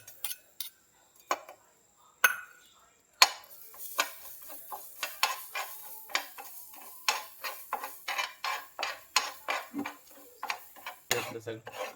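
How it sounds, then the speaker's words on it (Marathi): Repeated scraping and clinking of a utensil stirring rice grains roasting in a hot pan, a steady rhythmic series of short strokes, close up, with a few pauses early on. "आणि परतून घ्यायचं जरा ब्राऊन कलर येईपर्यंत."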